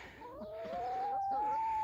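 A young naked-neck (Cou Nu) cockerel calls in one rising, drawn-out note that steadies into a sustained tone, close by and fairly clear against light background noise.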